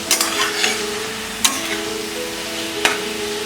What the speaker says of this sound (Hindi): और इसे टमाटोस थोड़े सॉफ्ट होने तक हम इसे पकाएंगे।